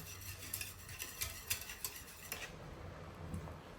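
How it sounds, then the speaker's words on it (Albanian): A kitchen whisk stirs a milky ashure pudding mixture in a pot, with quick, faint, rhythmic ticking and clinking of the wire against the pot. "e përzijmë masën kështu me një tel kuzhine"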